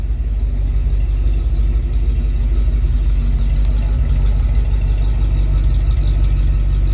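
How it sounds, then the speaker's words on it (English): A rebuilt Dodge 318 Poly V8 idles steadily close by, a continuous low, rumbling exhaust note that holds an even level throughout with no voices. "Let's just get a little bit of that exhaust note back here."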